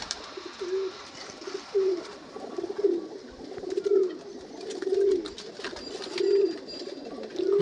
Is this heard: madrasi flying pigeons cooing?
yes